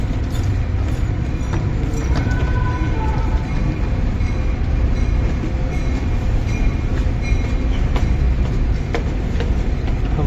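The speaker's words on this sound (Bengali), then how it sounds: "সাবওয়ে মানে মেট্রো।" A Chicago subway metro train rumbles steadily for about ten seconds, a loud, continuous low roar of rail transport with faint rhythmic clatter of wheels on track and no voices.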